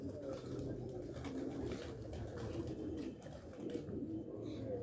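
Sialkoti pigeons, including a white pearl-eyed bird kept by a breeder in Sialkot's Model Town, coo softly in a low, steady, overlapping murmur that runs throughout, with quiet human voices in the background.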